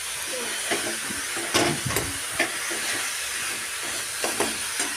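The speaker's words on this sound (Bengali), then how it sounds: "এখন এটাকে ভালো করে নাড়াচাড়া করে নিয়েছি" Jaggery and milk mixture being stirred in a pot for dudh puli pitha, a steady close hiss of simmering with a few soft scrapes and knocks of the spoon, no talking.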